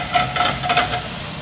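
Wild turkey pieces sizzling in a pan over heat, a steady soft frying hiss with light stirring scrapes as the pan is kept moving, close and moderately loud.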